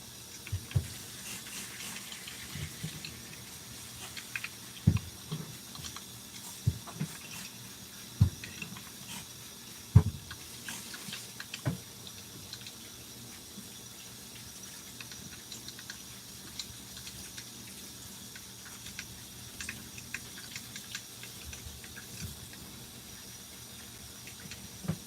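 Tomatoes rinsed under a running kitchen tap, a soft continuous water hiss with scattered knocks and clatters of produce and sink handling, close and moderate in level.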